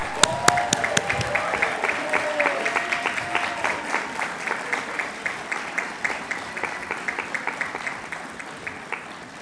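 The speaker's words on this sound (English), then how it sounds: "Let's give a round of applause for all our graduates." Applause for graduates at a Stockton University commencement ceremony, with scattered, fairly sparse clapping that pulses in a steady rhythm over a hollow, reverberant room, as if from a small or distant crowd.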